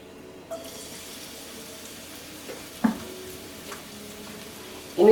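Garlic sizzles faintly in olive oil in a big fry pan, a low steady crackle with a few sharper pops and a louder burst of frying at the end.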